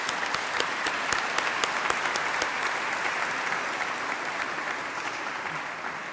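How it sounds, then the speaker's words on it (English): A large audience in a packed cathedral applauds, dense continuous clapping with sharp individual claps standing out, steady and loud throughout with a reverberant crowd feel. "Give yourselves a round of applause."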